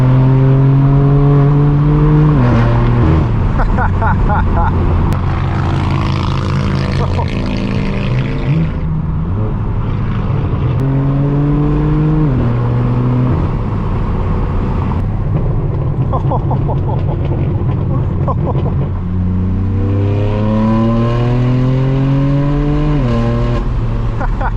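Straight-piped BMW M4 F82 driving on the road, its loud, raw exhaust droning steadily and rising through repeated gear pulls, with engine pitch sweeping up, dropping at each shift, then climbing again.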